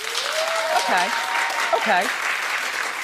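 A television talk show studio audience claps in a steady wash of applause while someone speaks briefly over it at close range.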